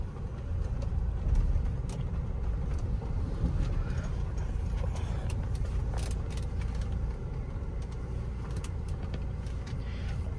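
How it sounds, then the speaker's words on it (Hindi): Road traffic noise with a vehicle engine rumbling steadily and fairly loud throughout, no distinct single pass-by, heard from beside a parked Innova Crysta 2.4 VX on a roadside. "गाड़ी आ रही है तो एक बार साइड में लगा लेते हैं।"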